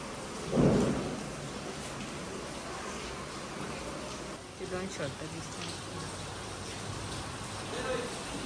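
Steady rain patters throughout while a short, deep rumble of thunder breaks early on, on a Diwali Lakshmi Puja evening. Faint voices can be heard underneath.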